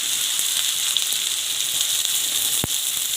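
Mustard seeds and onion sizzle in hot oil in a pan, a steady close hiss of frying that runs throughout, broken near the end by one sharp metallic knock.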